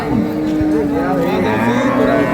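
A dairy cow lows loudly and close at the Ambari cattle market in Dinajpur, a single sustained moo over steady market background noise.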